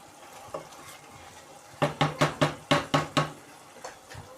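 A spoon scraping and clinking against a pot while keema matar aloo curry is served out, a quick run of about seven sharp knocks preceded and followed by a few softer taps.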